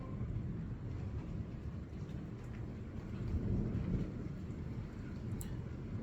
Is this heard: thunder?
yes